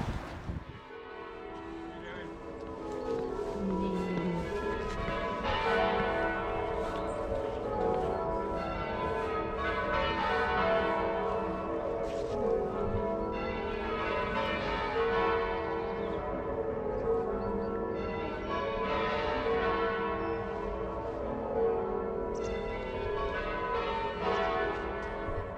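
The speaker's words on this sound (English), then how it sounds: "the church bells ringing" Church bells in Bromsgrove ring continuously in a dense, layered peal, loud and sustained throughout with a rich wash of overlapping tones.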